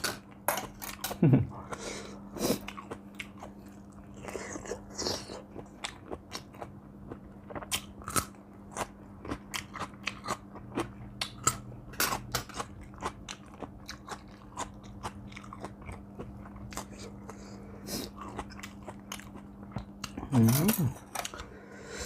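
Close, crisp crunching and chewing of a spicy shrimp papaya salad with fresh vegetables, bites crackling in an irregular rhythm throughout, with occasional voices in between.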